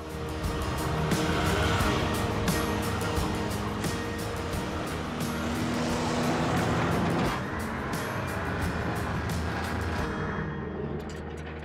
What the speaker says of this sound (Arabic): عربة مصفحة وبعلبة سرعة يدوية، قيادتها أصعب من قيادة السيارة.